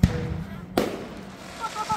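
A fireworks show bursts close by, with a sharp opening bang, a loud boom partway through and crackling that trails off, and people talking nearby.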